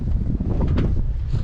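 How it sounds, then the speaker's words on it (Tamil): Strong wind buffets the microphone high on Parvathamalai hill by a temple, a loud continuous low roar with gusty rumbling and no break. "காற்று தான் சரி அடிக்குது."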